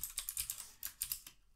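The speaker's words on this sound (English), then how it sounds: "Let me just type it again." Quick bursts of computer keyboard typing, a run of close keystrokes in uneven rhythm with a short pause midway before another flurry, then fading out.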